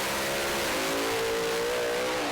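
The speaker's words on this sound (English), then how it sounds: "The RPMs come up, high revving methanol engines." A Plymouth Duster Pro Slammers drag car with a high-revving methanol engine screams at a distance, its pitch climbing steadily as it accelerates down the strip, loud and unbroken.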